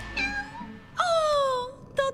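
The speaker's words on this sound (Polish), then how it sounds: "To tylko słodki kociak." A kitten meows in a cartoon, three separate high, bright mews, the middle one longest with a falling pitch, heard up close and clearly with no talking.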